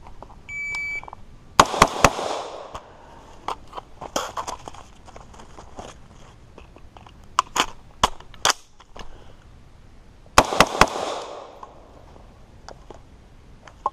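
A shot timer's high electronic beep opens, followed by bursts of loud, sharp AR rifle gunshots from a close shooter at an outdoor range, fired in quick strings with pauses and a second rapid volley later.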